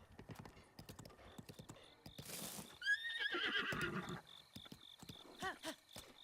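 A horse in The Legend of Zelda: Breath of the Wild whinnies in a rising, wavering call, mixed with clip-clopping hooves and a brief burst of noise, fairly close and clear.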